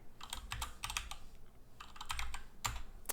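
Quick bursts of typing on a computer keyboard, close and crisp, with rapid clusters of keystrokes separated by short pauses.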